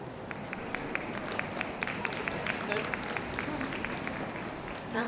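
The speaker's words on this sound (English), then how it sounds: "That's it, a bit more applause." An audience at a dog show claps steadily, a brisk patter of many hands over a murmuring room, with no break for several seconds.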